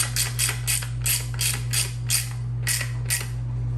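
Ratchet tightening the fitting on a Mishimoto coolant overflow tank in a Subaru STI, with steady rhythmic clicks repeating about every third of a second over a constant low hum.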